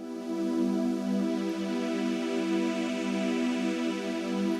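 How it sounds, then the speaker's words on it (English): A sustained Yamaha MODX+ synth pad with a slow, sweeping phaser-like shimmer from high resonance, steady and resonant throughout, no voices. "you will have this kind of, I will say it's not an effect, but the phasing sound like this"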